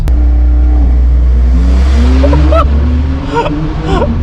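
Mercedes E63 S AMG accelerating hard from inside the cabin, a loud deep engine roar climbing in pitch through quick gear changes, steady and close with no talking.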